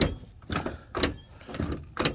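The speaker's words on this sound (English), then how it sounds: "I can open the door and at least peek into the cab." The locked cab door of an International 1486 tractor is tried several times, producing a series of regular metallic clunks and rattles, close and fairly loud, roughly every half second.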